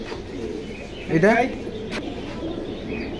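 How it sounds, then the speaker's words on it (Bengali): A single short coo from a fitki pigeon at a pigeon sale, heard close and brief beside someone speaking. "এটি অরিজিনাল ফিটকি কবুতর"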